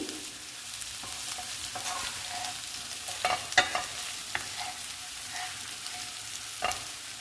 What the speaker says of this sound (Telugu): బెండకాయ ముక్కలు, ధనియాల పొడి, వెల్లుల్లి పేస్టు అన్నీ ఫ్రై అయ్యాయండి.